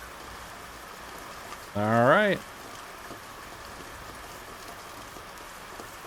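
Steady rain pattering in the video game Night Maniac forms a continuous soft hiss, with a voice speaking briefly over it.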